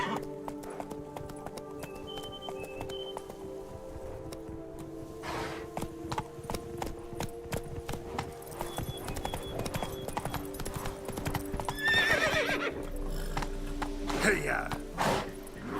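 Horse hooves clip-clop steadily in The Witcher 3 as the horse trots and then gallops, with a whinny partway through and a rider's brief calls, all close and moderately loud.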